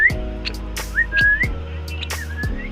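A person whistles to call an African lovebird, repeated rising and sliding whistle notes, loud and close, with soft clicks and handling noise in between.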